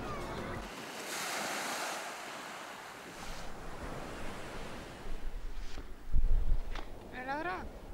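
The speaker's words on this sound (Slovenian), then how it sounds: "Če pa lej, kaki valovi so." Ocean surf washing ashore on a seaside outing, with steady wind buffeting the microphone throughout and louder wave surges toward the end, while people chat briefly nearby.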